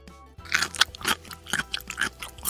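Toy vegetables, including a velcro eggplant, being pretend-eaten, with a run of close, crisp crunching and chewing bites in an uneven rhythm, no talking.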